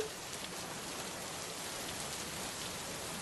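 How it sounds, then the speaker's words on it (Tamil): Summer rain falls steadily and densely, a continuous close hiss of drops on surfaces with no pauses or voices. "மழை ரொம்ப நல்லா வருது"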